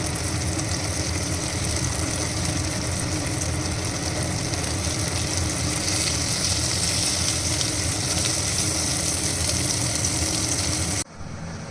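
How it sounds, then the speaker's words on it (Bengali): Pieces of pointed gourd (potol) frying in mustard oil in a pan: continuous dense sizzling and crackling, close and even, cutting off abruptly near the end. "পটল ওদিকে ভাজা হচ্ছে, ততক্ষণ আমি"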